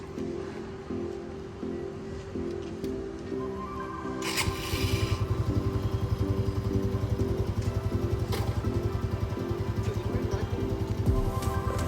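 Royal Enfield GT 650 motorcycle starts after a few seconds of quiet background noise, then idles with a steady, close, rapid thumping beat that continues to the end.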